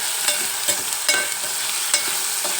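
Tomato and onion fry in a pan, giving a steady close sizzle with repeated stirring scrapes roughly every half second, and no voices.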